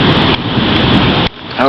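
Thunderstorm in July with heavy rain, a loud steady broadband roar of rain and rumbling that cuts off abruptly near the end.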